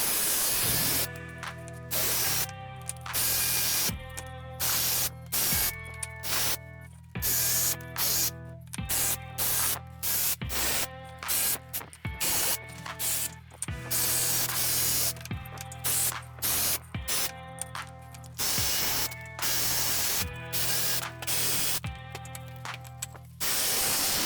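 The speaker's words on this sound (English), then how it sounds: "Now we'll use the jigsaw." A jigsaw cutting through wood on a workbench, a loud, continuous buzzing rasp broken by short pauses and restarts, close up, with no speech.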